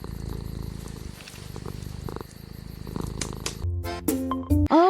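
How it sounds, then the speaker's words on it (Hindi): A cat purrs in a steady, continuous rumble for several seconds, then gives way to a few louder tonal sounds at the end. "बिल्लियां सबसे आलसी स्तनधारी हैं।"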